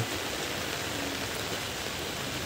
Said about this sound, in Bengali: আজকে সারাটা দিন ধরে অনেক বৃষ্টি হইতেছে